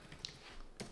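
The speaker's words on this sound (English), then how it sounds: "It's for kind of typing on the go when you need a keyboard." A handful of quick, light keystrokes on a folding Bluetooth travel keyboard, quiet and close-up.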